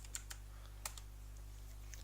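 A few sparse, crisp keystrokes tap on a computer keyboard while typing a command in Minecraft, quiet and close over a low hum.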